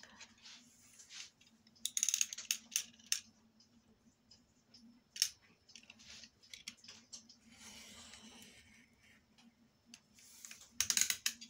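Fragile paper being cut with scissors, heard as bursts of small, crisp snips and clicks in quick clusters separated by quiet pauses, close and fairly faint.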